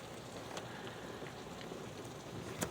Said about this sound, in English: Wall size hail coming down here